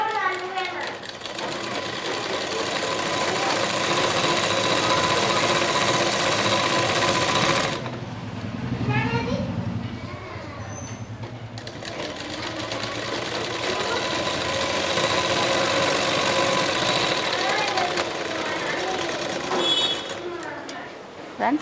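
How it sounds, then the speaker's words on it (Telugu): Sewing machine stitching a joint on a lehenga, a fast steady whirring rattle that runs close and loud, stops briefly midway while someone speaks, then resumes. "ఇలా పీస్ జాయింట్ వేసుకుంటున్నాను."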